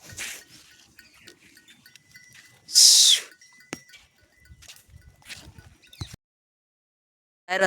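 Goats eating, with a loud bleat in the middle and scattered rustling, knocks and short calls around it, fairly close in an otherwise quiet outdoor spot.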